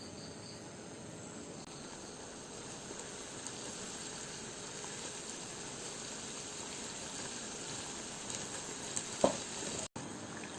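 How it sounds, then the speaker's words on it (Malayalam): Doughnut dough sizzles in hot oil, a faint steady crackle and bubbling fizz with a few small clinks near the end, no voices. "ഇനി ഇത് ഓരോന്നായിട്ട് നമുക്ക് എണ്ണയിലിട്ടെടുക്കാം."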